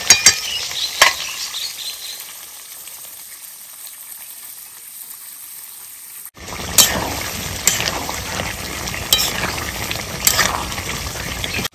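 Mutton curry cooked with papaya sizzles in a pan while ground garam masala goes in, with a quiet simmer at first, then louder bubbling and frying plus stirring clinks and scrapes, no talking.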